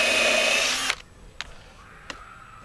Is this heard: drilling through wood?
yes